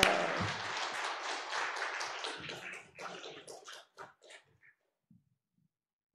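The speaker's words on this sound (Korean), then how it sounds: "하나님께 영광의 박수" Clapping from a Korean Presbyterian church congregation at a Wednesday worship service, a burst of applause that thins into scattered claps and fades to silence.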